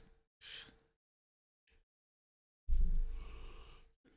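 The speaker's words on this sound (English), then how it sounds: "I can't quit yawning" A person yawning: a short breathy intake, a faint breath, then a long loud drawn-out yawn exhaled close by, with no talking.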